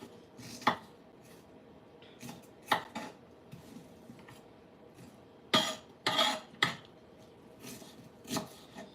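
A knife chops onions on a cutting board for meatloaf, making irregular crisp knocks, some in quick double or triple bursts, heard close with a quiet room hum underneath and no talking.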